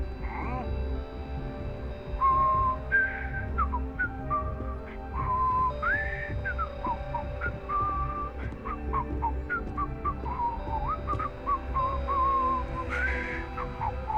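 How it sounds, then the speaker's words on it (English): A man whistles a meandering tune in the video game Starfield, with clear pitched phrases rising and falling over a steady ambient game soundscape with low rumbling background noise throughout. "What tune is he whistling?"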